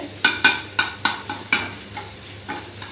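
Spiced paste is stirred in hot oil in a pan while parshe fish fry, giving a series of sharp scraping stirs over a soft sizzle, about nine close strokes fading slightly toward the end.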